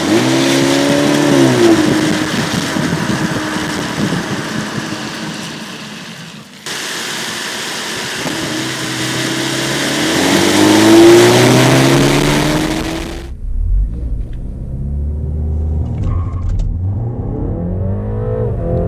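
A 2020 BMW 330e plug-in hybrid with a turbocharged 2-liter four-cylinder accelerates hard, its loud engine note rising through gears with a shift break, then dropping off to a quieter settling tone.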